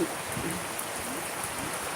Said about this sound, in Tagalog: Kaya lang natuwa lang ako sa ulan.